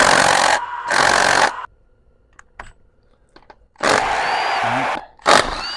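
Power tool bursts loosening a bracket bolt on an LB7 Duramax engine, two loud whirring runs with a quiet gap of small metallic clicks between them, then a final burst and short rattle.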